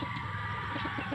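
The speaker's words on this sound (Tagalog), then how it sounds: "Kita mo yung mga manok" Chickens at a game farm cluck softly in short, repeated bursts over a steady background hum, faint and somewhat distant, with no talking.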